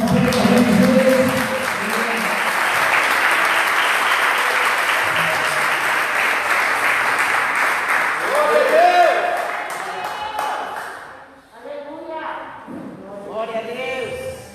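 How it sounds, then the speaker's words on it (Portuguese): Congregational applause at a Sunday morning church service, steady clapping for about ten seconds that fades out, with voices audible throughout and a speaker talking once it dies down. "Você pode aplaudir mais uma vez, Jesus."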